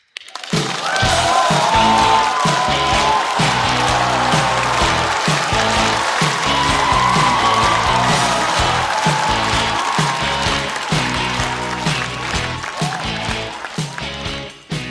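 A studio audience at a stand-up comedy show applauds to welcome a comedian, with loud, dense clapping that starts abruptly, holds steady for about fourteen seconds and then fades out.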